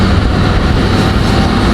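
A loud, steady engine roar with a whooshing, jet-like intake hiss from a Chevrolet Silverado/GMC Sierra pickup truck fitted with a K&N cold air intake, continuous and close, with no talking.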